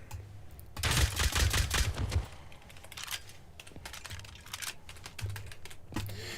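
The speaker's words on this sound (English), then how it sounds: "I'm just killing zombies." Rapid bursts of gunfire shooting zombies in Rust hardcore mode, dense crackling volleys in the first seconds then scattered shots, with no talking.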